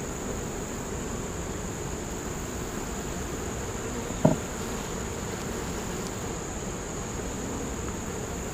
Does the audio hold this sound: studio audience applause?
no